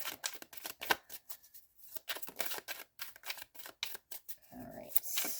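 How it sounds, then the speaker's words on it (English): A deck of oracle cards is shuffled live by hand, close up: a quick, steady run of papery flicks, riffles and slaps with short pauses between bursts and no voices. "some people like to see the live shuffle"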